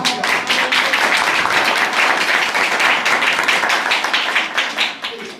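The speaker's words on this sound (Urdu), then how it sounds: "تالیاں بجاؤ" A church congregation claps their hands after a blessing, many hands striking in a thick, loud, continuous burst that holds steady before thinning slightly at the end.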